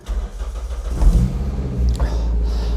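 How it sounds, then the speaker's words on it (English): A Toyota MR2 ZZW30 engine cranks briefly, then catches and settles into a steady, rumbling idle, loud and close. "Let's start the engine."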